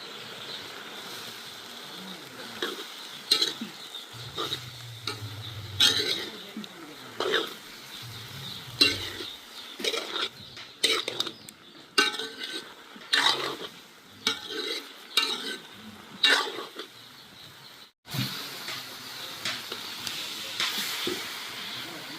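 Salt is stirred into boiling snake gourd in a pot, with a spoon scraping and clattering in repeated strokes over a soft bubbling hiss, fairly close.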